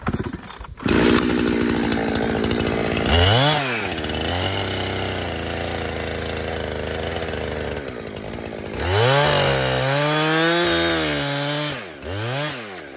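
Chainsaw cleaning out the felling notch in a tree, the engine revving up and bogging under load as the chain bites, dropping to idle between cuts, loud and close with no talk.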